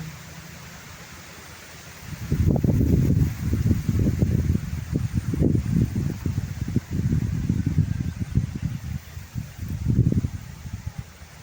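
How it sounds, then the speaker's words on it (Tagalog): Strong wind off the Pacific sweeping across a green organic rice paddy, buffeting the microphone in loud rumbling gusts after a quieter opening, with rustling of leaves beneath. "So ayan, kasagsagan ng hangin."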